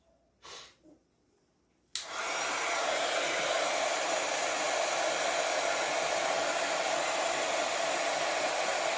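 A hair dryer switches on and runs steadily and loudly to dry paint on a waxed cardboard gift box, after a couple of quiet breathy sounds at the start.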